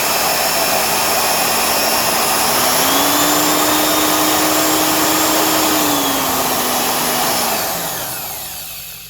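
A freshly greased Porter-Cable 7403 6-inch rotary sander and paint remover runs with a loud, steady motorized whine and roar, a slight pitch rise midway, then winds down at the end.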